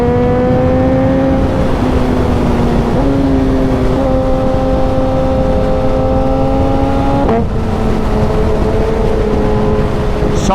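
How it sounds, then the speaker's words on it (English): A high-performance motorcycle engine pulls hard on a road ride from Glasgow to Oban, its steady loud drone stepping up in pitch with quick-shifter gear changes around three, four and seven seconds, under constant wind rush. "Some noise off that quick shifter"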